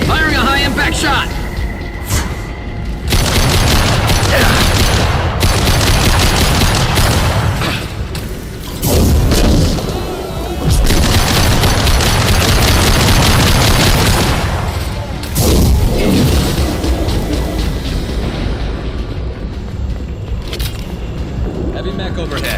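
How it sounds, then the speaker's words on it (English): A heavy, high-impact gunshot in Mass Effect 2, amid a loud battle scene of repeated booming shots and mechanical clatter with pauses between bursts, while voices speak over parts of it. "Firing a high impact shot."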